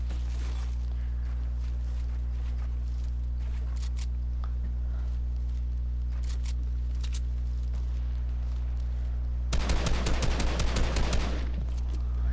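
Fortnite gunfire during a solo match, a short loud burst of rapid automatic shots near the end, with sparse faint game sounds and a steady low hum beforehand.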